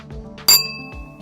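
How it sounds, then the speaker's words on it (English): A wine glass tapped lightly with a spoon gives one sharp strike that rings on with bell-like tones, fading over the following half second against a quiet background. "If you hit the glass lightly with a spoon, it will ring like a bell at its resonant frequency."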